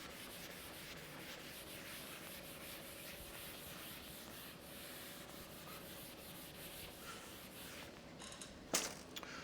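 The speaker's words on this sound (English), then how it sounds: "While I erase the board" A chalkboard is erased in a lecture hall, producing a continuous soft rubbing and scrubbing, fairly faint and steady, that ends with a sharp tap near the close.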